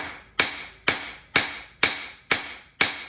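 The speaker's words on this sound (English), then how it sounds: "Hammer that down." A hammer strikes hot metal six times in an even rhythm while forging a dinner triangle, each blow a loud, ringing clang that decays before the next.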